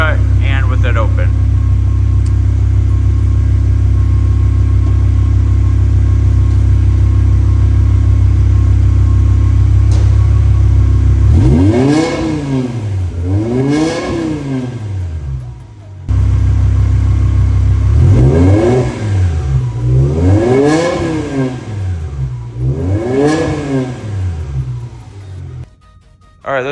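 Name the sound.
BMW E60 M5 V10 engine revving inside a shop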